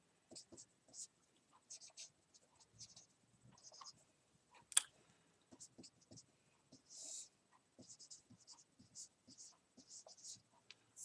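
Chalk or marker taps and scratches out an equation on a board during a signal-processing lecture, in quiet, faint bursts of short strokes.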